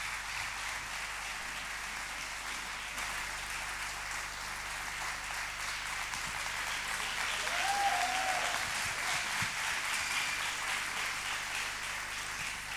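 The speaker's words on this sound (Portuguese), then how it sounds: "Uma salva de palmas." A room full of people applauding steadily after a dance performance, a broad wash of clapping that swells a little midway and continues to the end.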